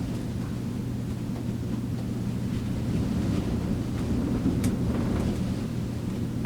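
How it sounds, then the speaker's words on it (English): Strong wind blowing outdoors, a steady loud low rumble with gusty buffeting against the microphone that holds throughout without a break. "This wind is not gonna quit blowing."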